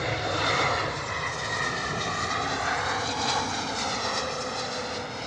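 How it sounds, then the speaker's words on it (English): A Ryanair airliner lands at Bristol Airport on a wet, stormy evening, with a loud, continuous roar of jet engines and a sweeping, whining tone as it passes close by. "Ryanair coming in fast this evening. Boom, bringing it down."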